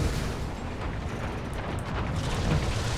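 Artillery explosions in War Thunder during a tier 3 German tank battle, a continuous loud rumbling wash of blasts and booms that fills the whole stretch without any clear gaps.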